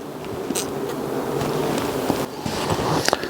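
Honeybees buzz inside a beehive that has been prepared for a winter storm, a dense, continuous hum heard close up with some rustling and a few small knocks.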